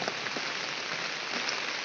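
Steady rain falls on a farm where cattle and goats are kept, a dense even hiss with scattered drop patter throughout, no voices.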